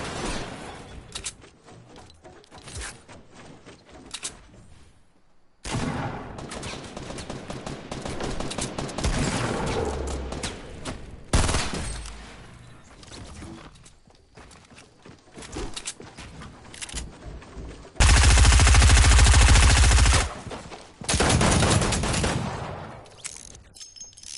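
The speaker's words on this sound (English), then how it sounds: "It's like such a freaking burst weapon." Burst weapon gunfire in the shooter game Fortnite: repeated rapid volleys of shots in clusters separated by brief silences, with one loud sustained stretch of firing near the end, no talk.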